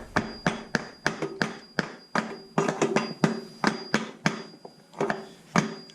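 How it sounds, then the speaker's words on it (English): Repeated sharp hammer taps on a wooden chair, close and loud, in quick uneven bursts with short pauses between groups of blows, knocking parts into alignment. "So now I can line things up with the hammer."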